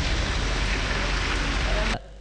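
Rain falling after a heavy snowfall in Yalvaç, a dense steady hiss of rain on surfaces at close range that cuts off abruptly near the end.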